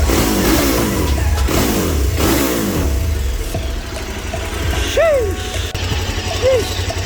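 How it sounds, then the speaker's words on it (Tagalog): A KTM 1290 Super Adventure R with its 1290cc LC8 V-twin engine on the stock muffler, warmed up and revved, gives a loud, steady roar with repeated throttle blips and a pitch that rises and falls, up close. "Ganyan tumunog ang V-twin engine guys. So ito ay stock muffler pa."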